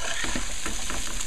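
Long beans, called bora, and potato stir-fry in a pan with salt, a constant loud sizzle and frying hiss, with soft scraping stirs throughout.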